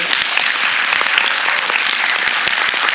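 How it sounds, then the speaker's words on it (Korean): An audience at a film screening and talk event applauds with loud, sustained, dense clapping, sharp individual claps standing out across the whole stretch. "네, 박수 한번 주세요."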